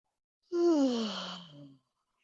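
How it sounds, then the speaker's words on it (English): During a chair yoga routine, a person lets out one big, drawn-out, lion-like yawn that falls in pitch, heard up close with nothing else around it. "take a great big shoulder shrug, a great big lion-like Yawn"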